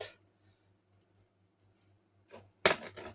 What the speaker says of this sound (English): Listen to that biscuit crust.